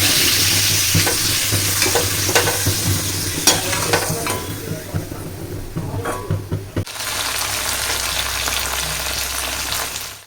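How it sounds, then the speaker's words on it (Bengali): Papad frying in hot oil in a pan in a home kitchen, a steady loud sizzle with scraping stirs and clinks, which cuts off abruptly to a quieter hiss near the end. "এখানে চলছে পাঁপড় ভাজা।"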